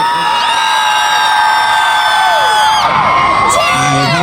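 A loud, sustained roar of screaming and cheering from a large audience at a Harry Potter celebration Q&A, high-pitched whoops and shrieks layered over dense crowd noise for the whole stretch, with no break.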